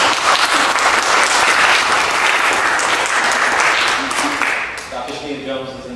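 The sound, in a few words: audience applause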